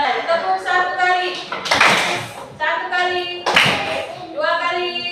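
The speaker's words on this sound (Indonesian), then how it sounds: "Tepuk satu kali" Hands clap sharply during a group clapping exercise in a training session, two distinct loud claps separated by voices speaking and chanting in between.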